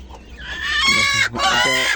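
Native deshi hens clucking close by among their chicks, a run of loud, throaty clucks and squawks in quick succession.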